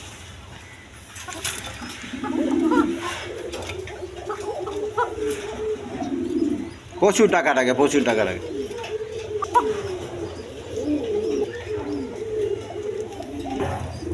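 Pigeons at a farm keep up a low, continuous throaty cooing that swells and fades, while someone talks over them almost the whole time.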